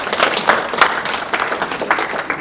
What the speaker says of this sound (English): Let's welcome him with a polite applause.